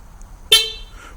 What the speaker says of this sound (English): On the second and third press, we will get a horn honk confirmation.